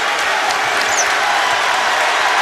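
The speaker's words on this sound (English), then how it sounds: "the crowd here is loving the effort" Crowd noise fills a college basketball arena during a men's game between Louisville and Clemson, a steady loud roar of cheering and applause with no break, close and dense throughout.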